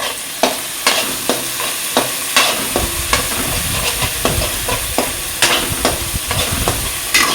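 Ground poppy seed paste sizzles and spatters loudly in a wok with dried chili and cumin, while a spatula scrapes and stirs it in a steady, repeated rhythm.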